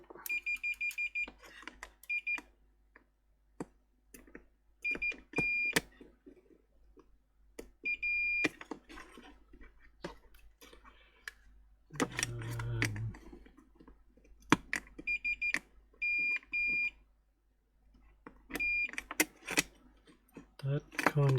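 A digital multimeter in continuity mode gives repeated short, shrill electronic beeps in bursts, checking a farm scale with no power, with clicking probes and handling noise between the tones in a quiet room.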